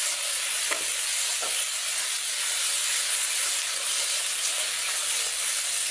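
Spices sautéing in a pan for a vegetable curry, a continuous bright sizzle with steady hissing and a couple of faint stirring scrapes, no voices.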